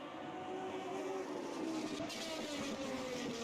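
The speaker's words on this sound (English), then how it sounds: "Such incredible sounds these cars make. A 6-liter V12, a 6-liter Ferrari V12 in the middle of this car." A Maserati MC12 with a mid-mounted 6-litre Ferrari V12 racing in Automobilista 2 at Watkins Glen, its engine droning steadily and loud, with rising and shifting tones and no talk over it.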